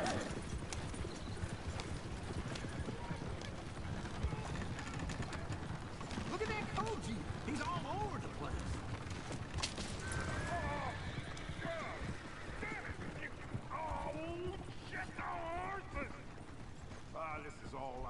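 Horses clip-clop and whinny repeatedly in a busy video game scene, with a voice talking over the hoofbeats and occasional mechanical clicks.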